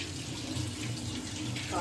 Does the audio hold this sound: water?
yes